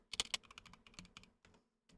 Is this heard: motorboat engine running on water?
no